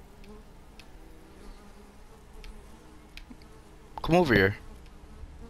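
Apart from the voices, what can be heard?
buzzing bees in Fortnite video game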